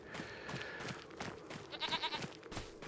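Goats bleat a few times at moderate distance in Farming Simulator 25, with soft thumps and rustling around them.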